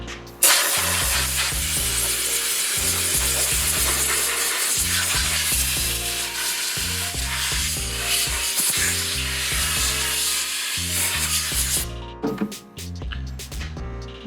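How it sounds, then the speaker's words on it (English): A compressed-air blow nozzle hisses in long, loud bursts while drying the differential cover of a 2005 Ford Excursion, over a pulsing rhythmic music bed, ending abruptly with a few short blasts. "Grab a blow nozzle, we'll dry that off."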